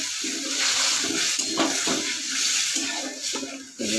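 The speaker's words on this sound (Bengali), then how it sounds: "এবার আমি দিচ্ছি আমুল দুধটা" Amul milk poured into a pan, a continuous splashing liquid stream with a faint sizzle, close and steady throughout.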